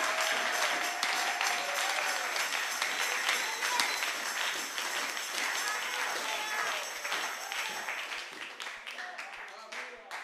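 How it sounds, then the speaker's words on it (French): A church congregation applauds loudly, with dense, sustained clapping and scattered voices filling the room for about ten seconds before it thins slightly toward the end. "Acclamez très fort le Seigneur"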